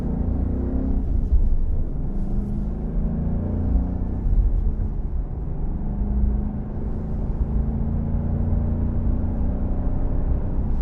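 A 2013 Ford Mustang Boss 302 V8 driven gently gives a steady, deep low rumble from inside the car, the tone rising and falling slightly with the throttle, with no talking.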